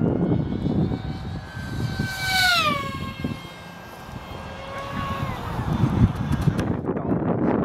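Nanoshark RC model plane with an ADH-300XL 5250 kv electric motor making a fast downwind pass overhead, its high whine rising then sharply dropping in pitch as it streaks by, over wind and outdoor rumble.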